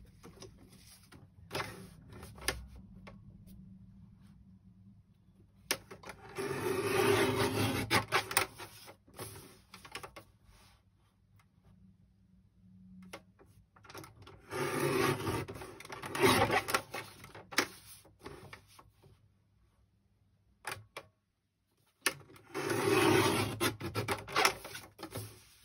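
Paper pages for a junk journal being cut on a trimmer, heard as several long rasping, sliding strokes with low rumbling underneath and quiet gaps between them, close by and without talking.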